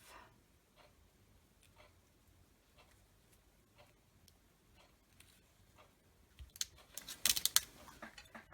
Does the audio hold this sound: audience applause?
no